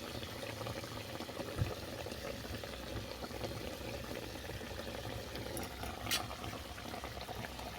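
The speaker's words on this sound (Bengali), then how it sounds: "মোট পাঁচ মিনিট ফুটিয়ে নিচ্ছি" Bhola fish simmering in mustard sauce, a soft continuous bubbling hiss at low level with a few faint clinks.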